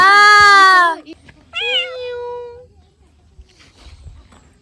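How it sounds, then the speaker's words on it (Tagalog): A cat gives a loud, drawn-out meow up close, then a second shorter meow, followed by quiet background. "Naiintindihan nyo ba ang sinabi ng pusa?"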